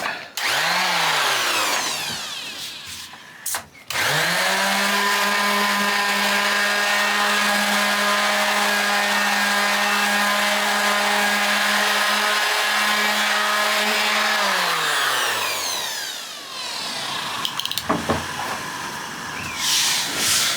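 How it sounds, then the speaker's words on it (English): An orbital sander works a wooden slab, a steady loud whine that spins up, holds for about ten seconds, then winds down, with a brief burst before and after. "So now we're going to use the orbital sander."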